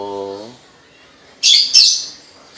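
A myna bird, a talking bird that imitates human speech, gives a short, loud voiced call, then a pause, then two sharp, shrill squawks close to the microphone.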